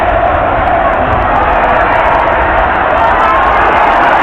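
Dense football crowd at a Sunderland match roars and cheers steadily after a goal, a loud, continuous wash of massed voices with no breaks, filling the whole stadium.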